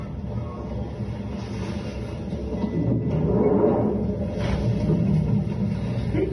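Low, steady rumbling of a London train in motion, heavy and close, swelling slightly midway with a faint squeal above the drone.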